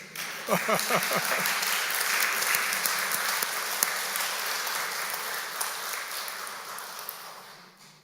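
An audience at a church revival meeting bursts into applause: dense, sustained clapping from many hands that starts sharply, holds steady and tapers off at the end.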